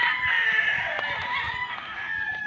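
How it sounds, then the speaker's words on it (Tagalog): Chickens in a small backyard coop, a close, continuous chorus of clucking and crowing calls with overlapping voices and no gaps. "Ito na yung manukan natin guys."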